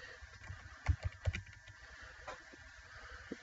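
Quiet computer keyboard typing while taking notes, a few scattered keystrokes with a short burst of louder clicks in the middle, no voices.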